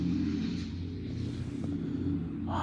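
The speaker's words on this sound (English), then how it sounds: "loud car is going to ruin everything" A loud car rumbles past outside a garage where a 2018-2019 Mustang GT is being worked on, a steady low droning roar lasting a few seconds with no talk.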